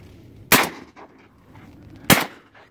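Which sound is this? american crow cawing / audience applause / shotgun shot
shotgun shot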